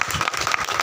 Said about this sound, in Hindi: तालियां सब बजनी चाहिए।